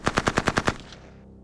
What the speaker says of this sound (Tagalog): Pakinggan mo, nagpapaputok siya.